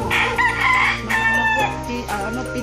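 A rooster on a farm in Botolan, Zambales crows loudly and close, a drawn-out call breaking into a second lower phrase.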